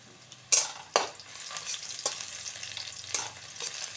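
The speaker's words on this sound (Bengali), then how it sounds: "একটু মশলাটা হালকা করে লাল লাল করে ভেজে নিতে হবে।" Spices and garlic fry in a pan for a water spinach (kalmi sag) dish, with a steady low sizzle broken by a few sharp, scraping stirs.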